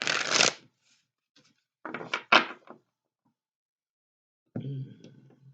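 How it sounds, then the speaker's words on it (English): Short bursts of cards being riffled and shuffled, with quiet pauses between them and a softer clatter at the end. "One more shuffle."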